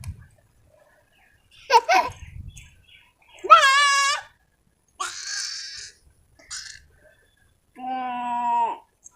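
Several goat bleats in separate bursts, wavering and fairly close, with short pauses between them and a brief rustle early on.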